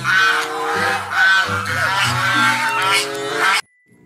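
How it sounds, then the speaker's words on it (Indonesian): Goose in the dinosaur park video game Jurassic World Evolution 2 giving a run of loud, nasal honks, close and repeated, cutting off abruptly into silence near the end. "Wow, ada seekor angsa."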